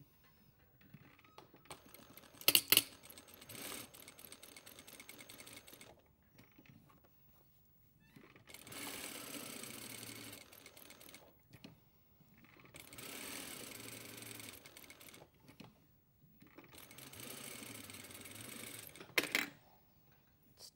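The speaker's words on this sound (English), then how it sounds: "It's two rows of top stitching, and I'm going to do the width of the foot, which is a 6 mil top stitch." A sewing machine runs in three long bursts of top stitching along a pointed pocket flap, sewing two rows a foot's width apart, with short pauses and a few sharp clicks between runs; no one talks.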